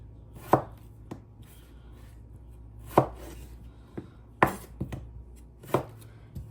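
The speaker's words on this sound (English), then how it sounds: "Just wedging up my taters." A knife cuts sweet potatoes into wedges on a board, making about six sharp, separate chops spaced irregularly over quiet background.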